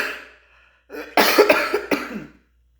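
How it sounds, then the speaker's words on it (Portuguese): A single close, loud cough bursts out alone, several harsh hacking pulses over about a second and a half, following a brief stretch of speaking voice. "Perdoe, querida irmandade, por esse segundo de tosse."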